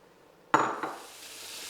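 Bacon dropped into a pan of hot olive oil bursts into a sudden loud hiss and crackle. The sizzle then settles into a steady, quieter frying sound.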